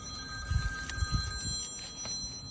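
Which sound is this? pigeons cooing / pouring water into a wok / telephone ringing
telephone ringing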